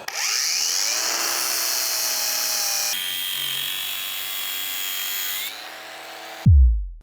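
A power tool fitted with a flap disc whines steadily while sanding on a car build, the pitch shifting as pressure changes, then spinning down and stopping with a low thump near the end.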